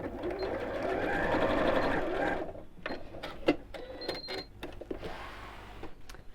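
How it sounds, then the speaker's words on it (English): Sewing machine stitching across the fabric ends of a child's backpack, a steady close whirring run for about two seconds, then short stop-start bursts of stitching with quiet pauses between. "And then I'm just going to sew across those ends."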